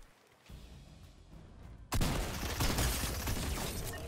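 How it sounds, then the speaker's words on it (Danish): Gunfire in the video game Fortnite breaks out as a dense, continuous burst of shots that starts abruptly partway through and stays loud to the end, with no talk over it. "Der er det, jeg hører skud"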